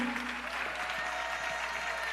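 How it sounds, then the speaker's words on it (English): A crowd at a live town hall applauds with continuous, even clapping that fills the room at a moderate level. "Round of applause to you."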